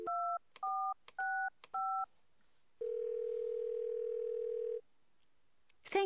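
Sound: telephone dialing tones in video game Thimbleweed Park

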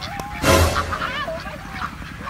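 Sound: ducks quacking around a person

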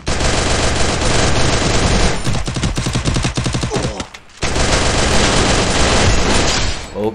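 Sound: gunfire in the video game Free Fire

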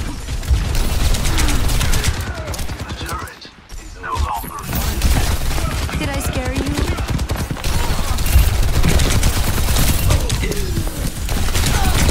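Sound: enemy turret firing in Overwatch 2 video game

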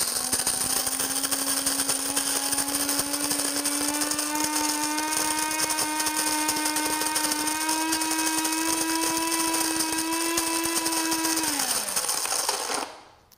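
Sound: Cuisinart DBM-8 burr coffee grinder grinding coffee on medium

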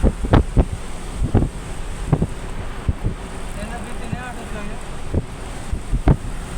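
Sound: rough sea with wind and waves

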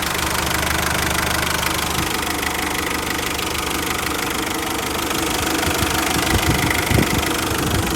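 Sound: engine running

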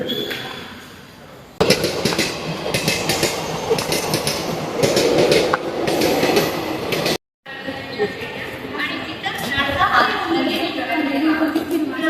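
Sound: passenger train running, Tutari Express

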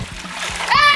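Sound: person thrown into swimming pool full of plastic balls, splash

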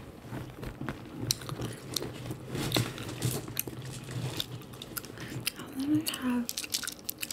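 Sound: chewing gum

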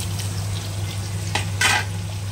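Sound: cinnamon stick and cumin seeds crackling in hot oil

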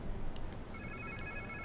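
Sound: phone ringing in Marvel's Spider-Man 2 video game

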